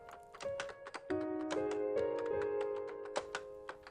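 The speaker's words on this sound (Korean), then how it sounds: "홀로 앉아 키보드 두드리는 소리만 흐를 뿐입니다" Someone types alone on a computer keyboard in a quiet study, a soft, uneven run of close key taps and clacks with a faint steady tone behind them.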